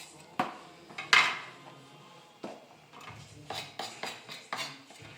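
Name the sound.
placing chopped ingredients with onion into a bowl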